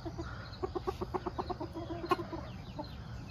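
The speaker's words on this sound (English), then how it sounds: "Chicken, yes." A chicken clucks in a steady run of about a dozen short, evenly spaced clucks, fairly close, with one louder squawk near the end and a faint final cluck, over a low background rumble.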